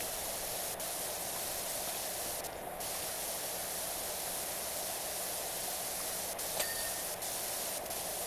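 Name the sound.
pressure washer spraying in PowerWash Simulator 2 video game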